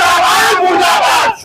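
A crowd at a candle march led by an MLA shouts protest slogans together, loud and close, in sustained unison bursts for most of the moment before cutting off near the end.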